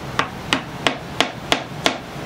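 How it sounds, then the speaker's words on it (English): A wooden key is hammered into a Strat guitar neck with six sharp, evenly spaced taps about a third of a second apart, close and clear in a quiet workshop. "I'm gonna knock it in here"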